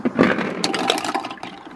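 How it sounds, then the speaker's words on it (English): A 1946 Kohler Trylon toilet flushes a load of golf balls: a loud, close rush of water with sharp knocks and clatter at the start, settling into a steady swirling drain for under two seconds. "you saw that it flushed 6 golf balls"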